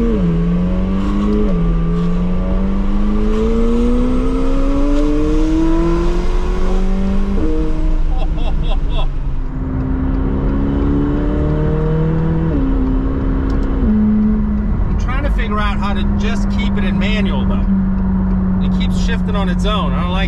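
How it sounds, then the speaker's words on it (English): Loud engine of a tuned twin-turbo McLaren 720S with straight-piped exhaust, rising, shifting exhaust tones as it revs and accelerates repeatedly, gear changes audible, a sharper burst of revving near the end. "one of the fastest supercars in the world, twin turbo, tuned, straight piped exhaust"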